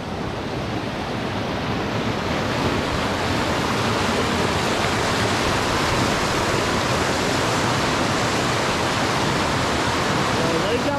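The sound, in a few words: fast-flowing creek under a bridge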